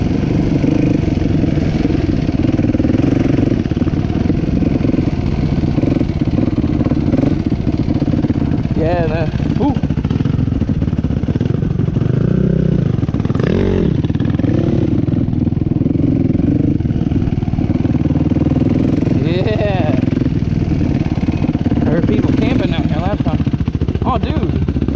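A dirt bike engine runs steadily and loudly throughout during an off-road ride, with rough clattering, a few revs rising and falling, and people talking over it.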